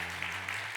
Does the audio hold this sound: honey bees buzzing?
no